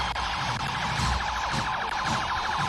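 An emergency vehicle siren wails continuously and loudly in steady repeating cycles during a Guinea independence day parade, with crowd and street noise around it.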